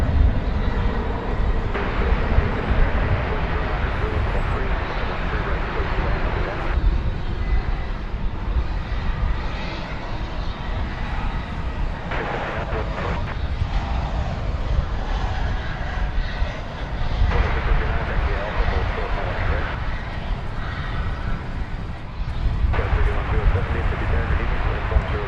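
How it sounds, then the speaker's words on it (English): Airplanes landing at DFW Airport at night on a north-south runway in a crosswind, a steady, loud jet engine roar that swells and fades across the span, with a voice talking over it. "The planes are landing to the south and the wind is coming from the east."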